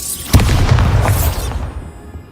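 A Bombarda spell explodes in Hogwarts Legacy, one sharp blast that hits at once and rolls into a deep rumble, then fades over about a second.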